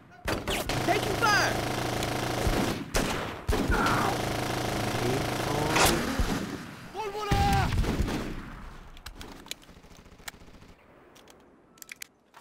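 Gunfire in a Full Spectrum Warrior: Ten Hammers firefight: sharp repeated shots and bursts over the first eight seconds, loud and close, mixed with voices and game sound, then thinning to a few scattered pops.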